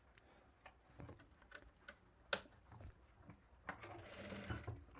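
Sewing machine stitching with black thread, a run of ticking needle strokes and clicks building into a faster continuous whir toward the end, close by and alone.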